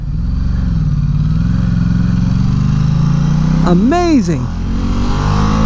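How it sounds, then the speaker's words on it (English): A cruiser motorcycle in sport mode drones steadily up close, then the throttle is blipped into a quick rising-and-falling rev near the end, while the rider briefly speaks. "Now this is a real cruiser right here"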